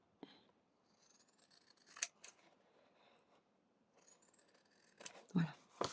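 Scissors snip paper and fabric while a junk journal cover is made, giving a few sharp, close cuts spread between quiet crafting handling, with someone speaking softly at times.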